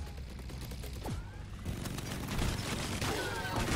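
Rapid bursts of gunfire in the video game Deep Rock Galactic, crackling volleys layered with whooshing effects, growing denser and louder toward the end.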